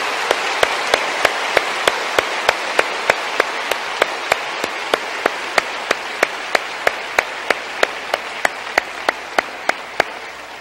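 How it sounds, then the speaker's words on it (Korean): A church congregation claps together to welcome young people at a youth gathering. Crisp, evenly spaced claps keep a steady beat over a wash of broadband clapping noise, and no one speaks. "우리 다 같이 박수로서 환영하십시오."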